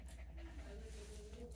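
A dog at a veterinary appointment pants and whimpers, with thin, wavering high whines over soft breathing, close by; voices are heard alongside it.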